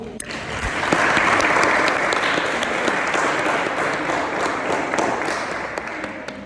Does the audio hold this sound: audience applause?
yes